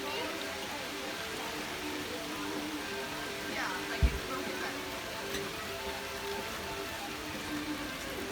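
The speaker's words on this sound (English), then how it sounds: "It's raining." Rain falls in a forest state park beside a river, a soft, continuous broadband patter and hiss at low volume, with one brief knock partway through.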